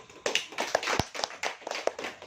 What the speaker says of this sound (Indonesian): Mari kita tepuk tangan untuk tim keluarga.